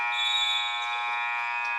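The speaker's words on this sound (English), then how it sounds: "the buzzer goes off to end the third quarter" A basketball game buzzer sounds at the end of the third quarter of a boys' varsity game, St Michael versus Satsuma: one steady, loud, continuous electronic tone that holds for the whole stretch without any talk.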